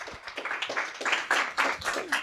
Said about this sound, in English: Massive round of applause for Martyna.